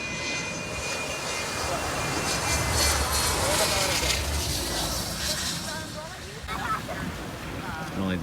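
An airplane engine drones overhead outdoors in a snowy New England setting, a steady broad roar with wind noise on the microphone that swells midway and then eases, with a voice talking faintly.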